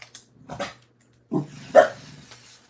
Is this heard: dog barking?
yes